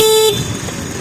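A short, high electronic horn beep from an Ola electric scooter sounds loudly at the start, then cuts off into quiet road and wind noise.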